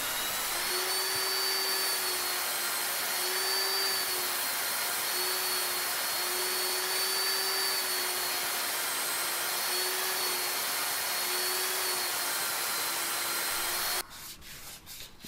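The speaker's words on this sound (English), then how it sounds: "Using my belt sander on its side, I then used it to clean the outside of the bowl" Belt sander turned on its side, cleaning up the outside of a circular wooden bowl: a steady, loud, continuous abrasive whir with a constant motor hum that runs alone for about fourteen seconds before cutting off into brief clatter.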